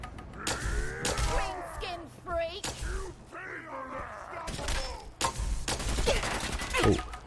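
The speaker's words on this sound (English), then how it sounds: "Oh, I'm shooting the wrong guy." Fallout 4 combat brings scattered gunshots and sharp impacts amid rumbling game effects and distorted creature groans, close and moderately loud with irregular bursts throughout.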